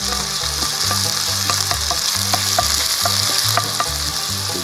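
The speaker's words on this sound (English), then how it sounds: "So you see the bacon's already drawing up and rendering" Sausage, bacon, potatoes and onions frying in a camp pan outdoors, a loud continuous sizzle with repeated scraping and metallic clicks from stirring, plus low rhythmic mechanical thumps underneath.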